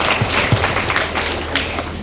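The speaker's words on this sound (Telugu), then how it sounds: "దేవాది దేవునికి గట్టిగా చప్పట్లు కొట్టి ఒకసారి ధన్యవాదాలు తెలియజేసుకుందాం" A church congregation claps steadily throughout, a dense and fairly loud wash of applause with no clear speech over it.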